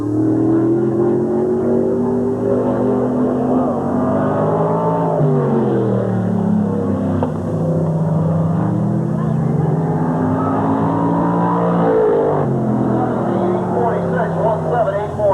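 Race cars circle Sandusky Speedway during a 1986 cavalcade, a dense, loud engine roar that swells and dips in pitch as cars accelerate and pass, sustained without pause.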